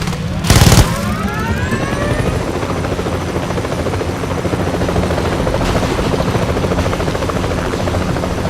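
A helicopter in the video game Battlefield Play4Free runs with a loud, continuous rotor and engine roar throughout, following a brief sharp burst at the start, with no talking.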